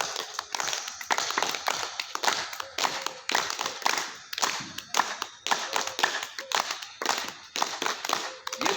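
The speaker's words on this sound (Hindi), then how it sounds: "अभी हम बजाएंगे ताली जोर से" A group at an outdoor yoga camp in Niwaru, Jaipur, claps hard in unison, sharp rhythmic bursts repeating steadily with small pauses between runs, close and loud.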